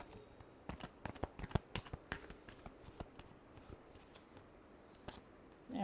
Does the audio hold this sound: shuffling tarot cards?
yes